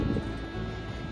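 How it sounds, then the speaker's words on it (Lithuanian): Strong wind blows steadily across the Ventspils south pier by the sea, a continuous roaring rush that buffets the microphone for the whole moment. "Šiandien pučia labai stiprus vėjas"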